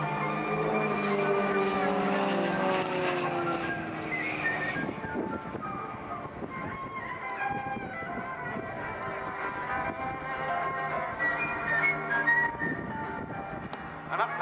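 Royal Jordanian Falcons aerobatic display aircraft perform at RIAT 2019, producing a loud, steady engine drone with a rich, rising-and-falling pitch throughout, heard clearly from a distance over light wind.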